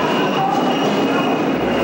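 Train at Friedrichstrasse station in East Berlin, a steady loud rumble of rail cars with a faint high squeal running through the whole stretch, no voices.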